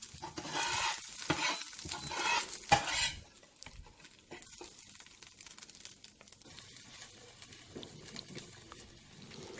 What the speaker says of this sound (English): So after frying the eggs,